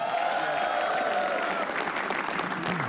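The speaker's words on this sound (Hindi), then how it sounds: "ताली बजाओ एक बार, सब लोग बजाओ" An audience at a comedy roast breaks into sustained, dense applause that holds steady and loud throughout, with faint crowd noise underneath.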